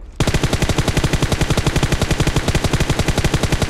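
Rapid automatic gunfire in PUBG Mobile, a loud close burst of evenly spaced shots firing about eight per second in one unbroken spray, with no voices over it.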